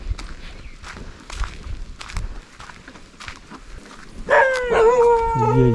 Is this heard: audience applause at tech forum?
no